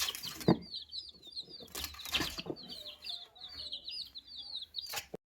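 Hens and small chicks around a home yard, with continuous high peeping from the chicks, a few deeper hen clucks and bursts of wing flapping, all close by.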